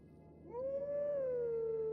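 Howling Stone in the video game The Legend of Zelda: Twilight Princess sounding a single sustained, wolf-like howled melody note that rises and slowly falls, clear and alone over quiet background hiss.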